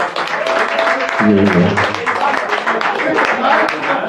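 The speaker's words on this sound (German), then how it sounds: "mal einen Applaus für unsere Gastgeber" Audience applause for the hosts at a charity event for children, steady clapping throughout with voices speaking over it.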